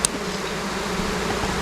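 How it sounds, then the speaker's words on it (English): Angry honeybees from a newly introduced colony make a dense, steady buzzing swarm drone. It is close and continuous and does not change over a short stretch, with no voices heard. "This is one bunch of angry bees"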